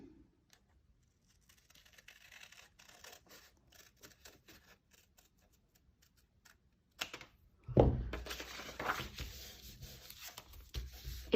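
Scissors snipping a dart in a paper sewing pattern for an underwire bikini top, a few soft close cuts and paper rustles, quiet at first and then louder handling of the sheet.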